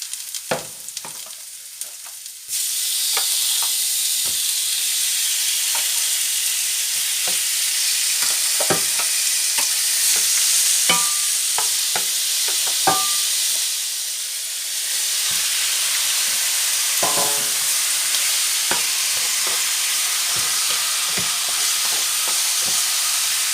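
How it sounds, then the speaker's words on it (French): Beef pieces sear in a hot pan with softened onions and garlic, giving a steady loud sizzle and hiss with scattered clicks and scrapes of stirring and turning, close and continuous with no talk. "Maintenant on va incorporer la viande qu'on va faire dorer de chaque côté."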